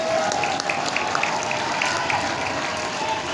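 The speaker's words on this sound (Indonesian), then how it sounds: "Tepuk tangan bagi semua." A crowd at an Indonesian Independence Day ceremony applauds, a steady dense wash of clapping throughout, somewhat distant, with faint voices beneath.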